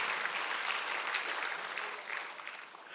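Congregation clapping together during a Sunday worship service at a church, a steady dense patter of many hands filling the room without letup.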